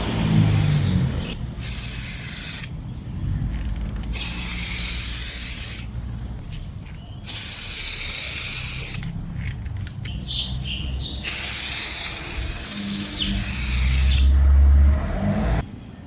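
An aerosol spray can lays a second coat of clear coating onto a restored car headlight in four long hissing bursts of about two seconds each, separated by quieter pauses. The spray is close and loud.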